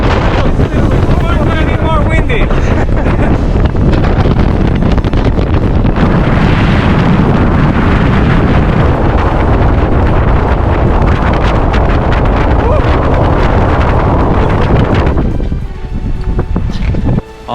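Loud, roaring wind in Torres del Paine, Patagonia, buffets the microphone nonstop, a dense rumbling gust that barely lets up until it eases near the end.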